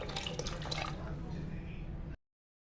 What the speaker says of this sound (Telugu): లోటన్నర వాటర్ వేద్దాం.